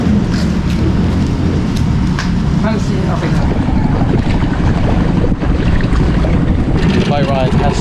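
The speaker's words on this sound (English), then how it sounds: "Boat ride has started." A boat ride on the way to Pagsanjan Falls rapids in Laguna, Philippines, with a loud, constant engine or motor drone, rushing water and heavy wind buffeting the microphone, plus some faint voices in the mix.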